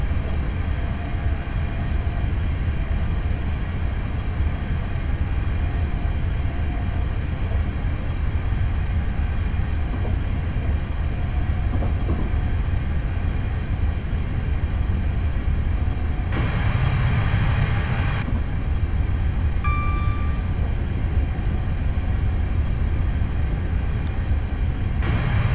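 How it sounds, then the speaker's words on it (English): A diesel passenger train in Train Simulator 2015 accelerates at full power at night between Glasgow Central and Glasgow Airport, a steady loud rumbling drone of engine and running gear filling the whole stretch, with a brief brighter burst partway through. "So I'm now going into full power to accelerate up to 75 miles per hour."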